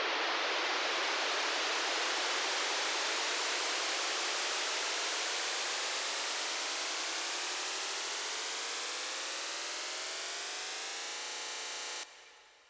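Synthesized white-noise riser from an Operator synth in a progressive house track, a loud hiss that sweeps steadily upward for about twelve seconds before cutting off abruptly, heard alone.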